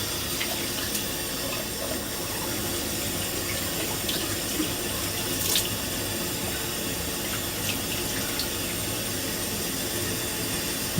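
Tap water runs continuously into a sink while Wilkinson Sword shave soap is rinsed off after a razor shave, a steady close hiss with small splashes and no talk.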